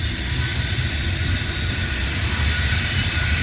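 A CSX mixed freight train accelerates onto the Metropolitan Subdivision, its steady low rumble of wheels and railcars filling the air with a constant, loud roar and faint high squeal, no voices.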